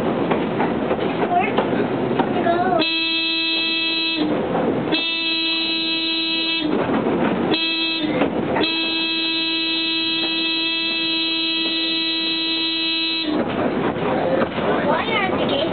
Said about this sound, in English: you can hear the train horn of our streetcar here